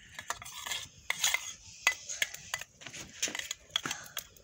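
A utensil stirs and scrapes a saag and egg mixture for roti in a pot, producing close, irregular clinks and scrapes in quick bursts with soft background noise.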